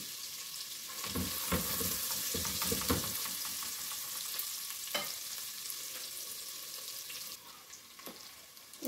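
Browned onion goes into a hot pan for chicken karahi and fries with a steady, close sizzle, with a few stirring scrapes and clatters in the first seconds before the frying settles into a constant hiss.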